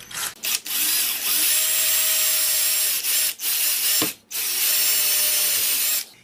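Power drill with a dull bit boring a hole while a TV antenna kit is assembled, a steady whining drone broken by several short pauses and restarts.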